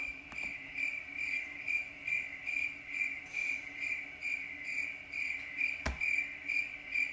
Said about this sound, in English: But we gotta get the real crickets